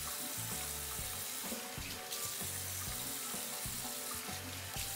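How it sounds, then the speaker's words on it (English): Running water from a tap splashes steadily as a face is washed at a sink during a skin care routine, a continuous close rush with irregular splashes and no talking. "Do a little water on my face."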